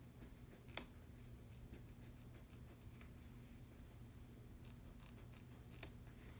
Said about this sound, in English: I'm going to use my applique scissors so I can get close.